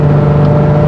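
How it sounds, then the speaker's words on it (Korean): A Hyundai Tuscani Elisa 2.7 V6 under way gives a loud, steady exhaust drone with a low hum. The sound is heard close up from inside the car and does not vary in pitch. "지금 들리는 게 배기 소리밖에 안 들리거든요."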